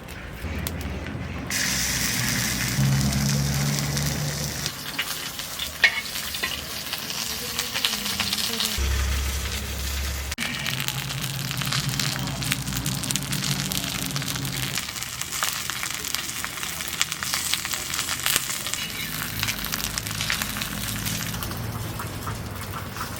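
Kochu, a taro stem fritter, fries in hot oil in a village kitchen, a loud continuous sizzle with shifting bursts and crackles as pieces are added and stirred, no talking.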